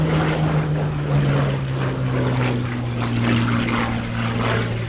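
A Hawker Hurricane propeller fighter flies past at a Dunsfold airshow, its engine a loud, steady drone with a sustained low tone that shifts slightly in pitch, and no talking.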